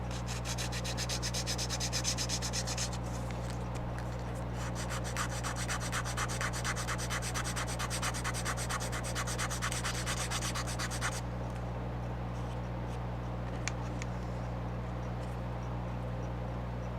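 A piece of sandpaper rubbed briskly over cardboard for a model railroad structure, producing rapid rhythmic scratchy strokes that run for about eleven seconds before stopping, close up over a low steady hum, with no speech.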